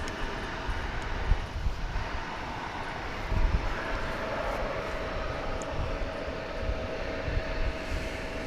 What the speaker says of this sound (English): you can see the parade of regional aircraft that are headed our way to join the others that are lined up for